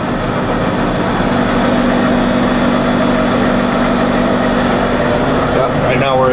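A 1995 Leblond Makino MC86 4-axis CNC horizontal machining center with its spindle run up through a gear change to 2500 RPM, a loud steady mechanical hum and whine with someone talking over it.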